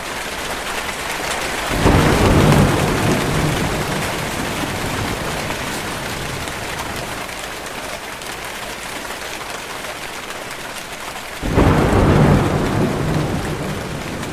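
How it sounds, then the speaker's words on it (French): Steady heavy rain pours down while two deep rolls of thunder swell and fade, one early and one near the end. "Sauf quand il pleut."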